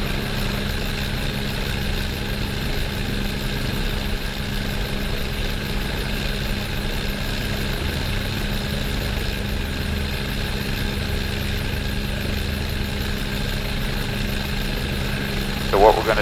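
Helicopter turbine engines running steadily with the second engine spun up and rotor turning, a constant droning whine and low vibration throughout, loud and unbroken.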